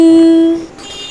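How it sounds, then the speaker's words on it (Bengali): A cartoon train races past a railway crossing at full speed: a loud, steady horn-like tone holds for about half a second, then drops away into a softer trailing rumble. "ট্রেনটা ফুল স্পিডে পাস করতে থাকলো।"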